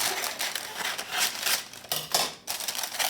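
Scissors cut paper to line the bottom of a baking pan in a quick run of crisp, close snips and rustles with short pauses between them.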